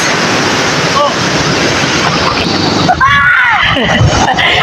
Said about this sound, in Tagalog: Ayan o, malalaki lang ang alon.